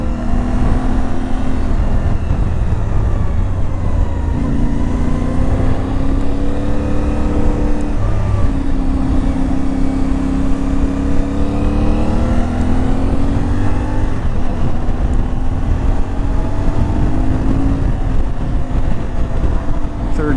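A dirt bike engine, an IBEX 450, revs up through the gears on a road ride, a close, loud continuous drone with rising and falling pitch sweeps as it accelerates, plus steady wind rush.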